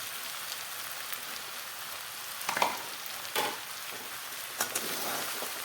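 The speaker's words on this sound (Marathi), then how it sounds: "आणि आता हे छान मिक्स करायचं आहे हलवायचं आहे" Sabudana khichdi with crushed peanuts is stirred in a hot pan, a soft continuous sizzle broken by a few brief scraping clacks of the spoon, quiet and close, with no talk.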